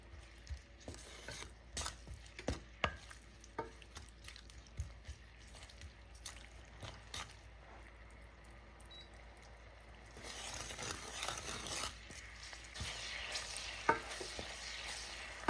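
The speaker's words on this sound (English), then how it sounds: "you're going to continue mixing until the onions change color" A spoon stirs onions with salt in a pot, jeera and curry leaves in the oil, with scattered clinks and scrapes over a quiet sizzle that swells into a steadier, louder hiss near the end, with no voices.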